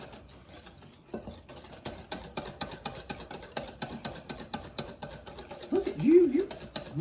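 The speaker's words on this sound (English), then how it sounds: "I'm going to whisk so we don't have any clumps" Rapid rhythmic whisking of cake batter in a bowl for a Boston cream pie, quick repeated scraping strokes throughout with a voice singing near the end.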